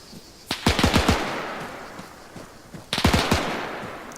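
An M1919 machine gun in Arma 3 rips out two short, rapid bursts of closely spaced shots, loud and near, with a quiet gap between them.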